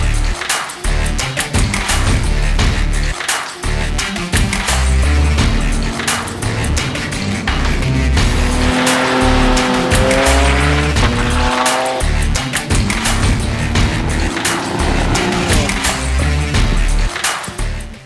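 A Porsche 964 Turbo race car at Oulton Park loses control and slides off the track, its loud engine roaring under squealing, skidding tires, with dense engine noise throughout.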